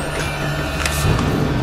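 Steady low engine drone of the ghost tractor in Alan Wake Remastered, a continuous mechanical hum with a faint rising whine and a couple of brief hissing bursts, heard alone without talk.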